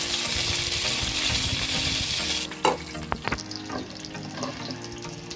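Mustard and tempering seeds with chana dal fry in hot oil, a loud, dense sizzle that suddenly drops away, followed by a few sharp spatula clinks and scrapes against a quieter crackle.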